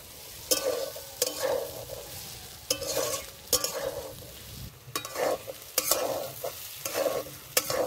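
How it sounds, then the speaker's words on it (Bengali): Soybean chunks frying in a pan, a steady close sizzle broken by repeated spatula stirring strokes that come in regular bursts, with no talking. "সয়াবিনগুলো ভালো করে ভেজে নিয়েছি"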